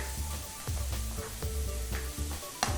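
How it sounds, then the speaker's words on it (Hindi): Chopped onions frying in hot oil with cumin seeds, a steady close sizzle with soft stirring scrapes and a few clanks of a spoon against the pan. "2 प्याज बारीक कटे हुए वो डाल लें, इनको भून लेते हैं अच्छे से।"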